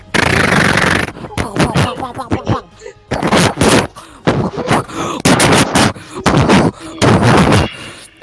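A tank gun firing in a video game, heavy booming blasts in quick succession with sharp impacts, loud and close, with other muffled battle noise between shots.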